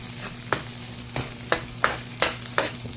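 Eggs cooking in a pan with a steady low sizzle, broken by a regular series of sharp scraping strokes from a utensil, about one every third of a second, close and fairly loud with no talk.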